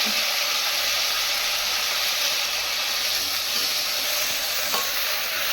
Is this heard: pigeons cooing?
no